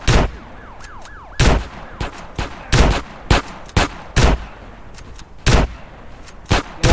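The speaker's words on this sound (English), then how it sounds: "Shots fired." Gunfire from a police chase video game, a series of sharp, loud shots in irregular bursts, some fired in quick pairs, with a faint wailing siren early on.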